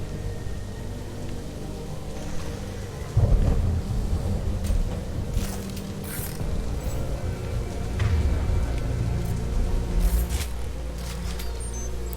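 Steady rain falling in Mass Effect 2, a continuous hissing wash with a low rumbling undertone and occasional faint drips, constant and moderately loud throughout.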